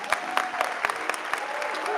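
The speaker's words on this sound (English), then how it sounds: "Let's give Gary another round of applause." Conference audience applauding steadily after a session talk, a dense wash of many hands clapping with sharper individual claps standing out, fairly close and filling the whole moment without speech.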